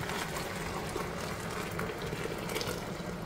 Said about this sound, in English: I'm gonna dump the brine